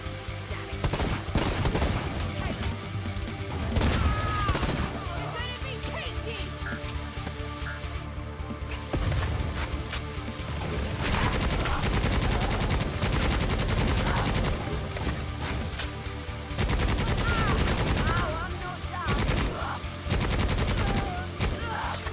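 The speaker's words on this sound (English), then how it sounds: "She's got a plasma gun or something." A plasma gun fires in the video game Necromunda: Hired Gun, with loud rapid bursts of shots that repeat across the clip over game music and effects, and a voice occasionally heard.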